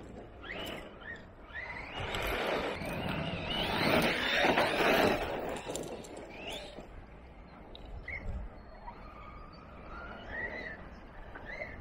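A 2021 Corally Kronos radio-controlled car drives over dirt with humps. Its electric motor whines and sweeps up and down in pitch as it accelerates, with a louder stretch in the middle and birds chirping in the background.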